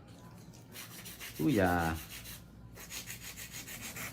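A fingernail being shaped and filed during a layered heart nail design, giving steady rhythmic rasping strokes close up, interrupted briefly by a short spoken exclamation.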